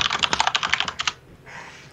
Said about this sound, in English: typing really loudly